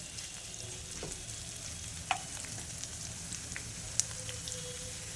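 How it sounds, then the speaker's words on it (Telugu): Coarsely crushed garlic cloves fry steadily in a hot pan with a low, continuous sizzle, broken by a few faint clinks and small pops. "వెల్లుల్లి వేశాక ఒక 1 మినిట్ పాటు వీటన్నిటిని ఫ్రై చేసుకుందామండి."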